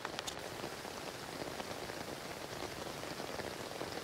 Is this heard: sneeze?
no